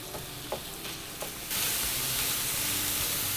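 Minced meat stir-fried over medium-high heat for a white Bolognese ragù, a few soft scrapes followed by a loud, steady sizzle that swells and holds close by.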